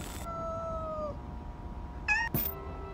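A kitten meows inside the horror video game Amanda the Adventurer, with two short, high mewing cries late in the clip over a steady low background hum.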